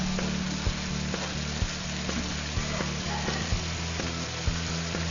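Ham and peas sizzle and fry together in a pan, giving a steady crackling hiss broken by occasional louder pops and stirring knocks, with no talk over it.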